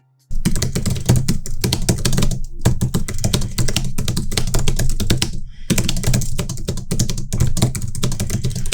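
Rapid, steady typing on a Logitech MX Keys low-profile keyboard, dense clicking keystrokes close up with a couple of brief pauses.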